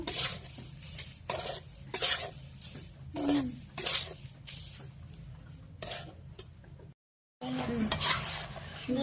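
Semolina being fried in a pan for a small home memorial ritual, with repeated scraping stir strokes, utensil clinks and a soft sizzle underneath, close and fairly loud, broken by a brief silent gap.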